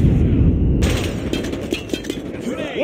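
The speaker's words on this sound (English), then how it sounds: "Predator missile inbound." A predator missile strike in Call of Duty Mobile slams in as a sudden loud blast, then settles into rumbling debris and scattered gunfire-like cracks over a low, heavy background roar.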